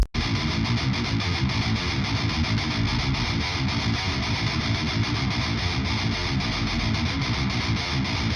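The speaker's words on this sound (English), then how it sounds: "this right here is the rhythm guitar 2. It's using the same tones" A heavily distorted rhythm guitar, using an STL Tones Mark Lewis plugin preset, chugs in a steady, driving metal pattern, loud and dense throughout with no voices.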